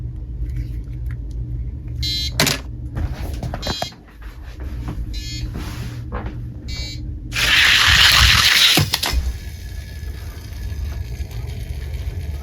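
Hot Wheels diecast Shelby Mustang cars, including a 2007 Shelby GT500, roll and clatter down a toy drag-race track, giving a steady rumble broken by sharp clicks, with a loud hissing rush near the end.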